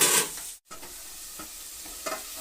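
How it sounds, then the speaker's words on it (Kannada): Onions with salt sizzling in a pan, a steady close hiss with a few soft stirring scrapes and a brief dropout near the start. "ಉಪ್ಪಿನ ಪುಡಿನ ಈರುಳ್ಳಿ ಜೊತೆಗೆ ಹಾಕ್ಬಿಡ್ತೀನಿ"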